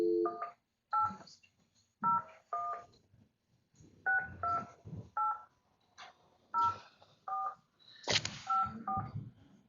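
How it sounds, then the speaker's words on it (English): Telephone keypad DTMF tones dial a number on a county commission meeting phone line, a string of about fifteen short, clear beeps in uneven groups, each a distinct dual pitch, with no voices. "Please dial 1 when dialing this number."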